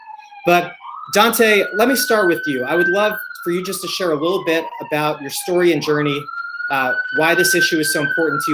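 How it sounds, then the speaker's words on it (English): A siren wails continuously in the background, its pitch slowly rising and falling, while a person talks over it. "Sorry for the sirens in the background,"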